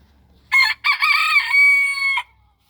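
A rooster crows once, loud and close, on a homestead with black roosters and hens, a rising broken call that stretches into a long held note before cutting off into silence.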